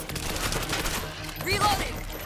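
Rapid automatic gunfire from an auto turret in the zombie shooter World War Z, a dense, continuous burst of shots over busy background game noise, with a brief rising tone near the end.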